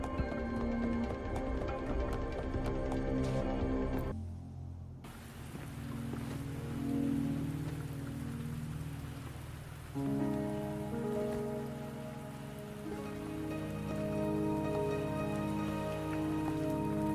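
Steady rain falls in the video game Wuthering Waves, a constant patter running under layered musical tones that shift partway through.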